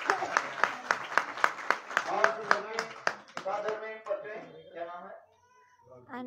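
Audience at a devotional house program clapping together in a regular, rhythmic beat that gradually breaks up, close by, with voices chanting and singing over the claps toward the end.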